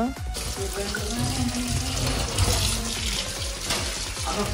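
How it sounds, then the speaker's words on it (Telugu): Hands being washed under a running tap, a continuous close splash of water with rubbing and splattering textures throughout, no talk. "నేనైతే హ్యాండ్ అయితే మంచిగా క్లీన్ చేసుకుంటున్నా"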